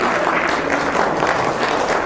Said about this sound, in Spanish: dale un aplauso más sonado, más fuerte al Señor Jesucristo